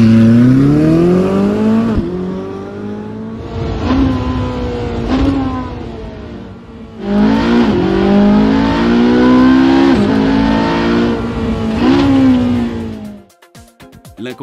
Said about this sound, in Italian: La posizione dei codini di scarico conferisce al V8 una corposa presenza di basse frequenze tipiche dei motori Ferrari più sportivi.